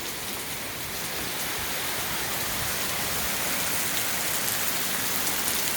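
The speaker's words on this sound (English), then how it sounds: "That's a lot of rain." Heavy rain pours steadily during a street flood outside a house, a dense, constant hiss of falling water with no break, close and enveloping, without talk.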